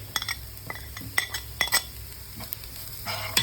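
Turmeric and chili powder are stirred in a sizzling pan for a Kannur-style samosa filling. A metal spoon clinks and scrapes against the pan in quick, irregular strokes over a steady frying hiss, close up with no talking.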